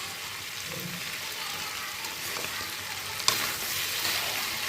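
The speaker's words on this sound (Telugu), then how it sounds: "ముక్కలని ఇలా వేసేయండి కర్రీలో వేసేసి వీటికి కూడా పట్టేలా చక్కగా కలపండి" Drumstick pieces tossed into a frying chicken curry with steady, close sizzling and stirring, plus a sharp clatter partway through; no one speaks.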